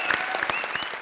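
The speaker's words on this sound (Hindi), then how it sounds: "जोरदार तालियां" A studio audience at a Hindi comedy show claps steadily, a dense continuous burst of applause throughout the short clip.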